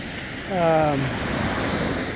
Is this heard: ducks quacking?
no